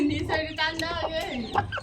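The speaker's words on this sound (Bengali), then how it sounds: "এখন হচ্ছে মুরগির গেটটা খুলে দেবো আর মুরগিরা বের হয়ে আসবে" Backyard chickens cluck and squawk close by as the coop gate is opened on a morning after rain, a quick run of loud, overlapping calls with a few breaks.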